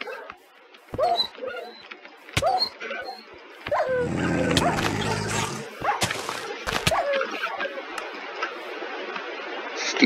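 A video game dog gives short sharp barks and yips, then a whimpering stretch, over busy game sound effects, while a player talks throughout.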